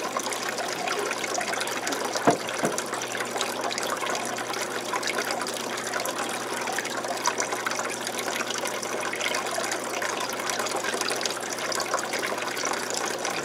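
Tap water gushes steadily into a 125 gallon planted aquarium, a continuous close hiss and splash of filling with one brief knock near the start.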